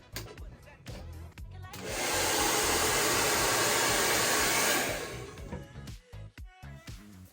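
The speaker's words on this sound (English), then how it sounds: "This is a professional blow dryer." Professional salon blow dryer with an extra-long cord drying hair, a loud steady whoosh of air lasting about three seconds, with speech before and after.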